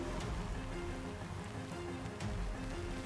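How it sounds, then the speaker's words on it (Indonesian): Steady rain falls at night in Cimanggu, West Java, a dense, even patter on surfaces that continues throughout with no pauses. "kondisinya juga lagi hujan"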